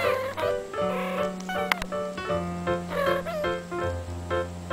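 A cuddly pet cat gives a steady, close purr, low and continuous throughout, with a few higher tonal calls layered over it.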